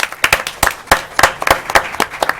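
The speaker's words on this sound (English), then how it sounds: "I'll give you applause for that right there" A small group at a school board meeting claps in sparse, uneven applause, sharp individual hand claps close by and distinct rather than blended into a roar.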